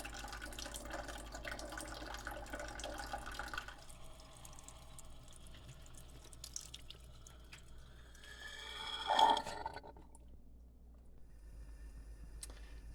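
Parts of a GE Opal 2.0 nugget ice maker rinsed under running water at a sink, with soft trickling and dripping that swells into a brief louder splash before fading to quiet, and no talking.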